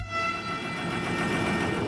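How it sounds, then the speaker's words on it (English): A loud, sustained horn blast from a locomotive-hauled train fills the clip at close range, its steady chord layered over rumbling rail noise with no voices. "Please don't blow the horn, that was so loud."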